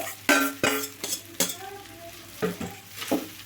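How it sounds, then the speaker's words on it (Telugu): A spoon scraping and clinking against a pan as cooked rice is mixed into lemon pulihora off the heat, a series of distinct knocks and scrapes in an uneven rhythm, close and clear. "మొత్తం అయితే ఒకసారి కలుపుకుందాము"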